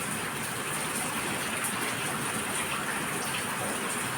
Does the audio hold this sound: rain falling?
yes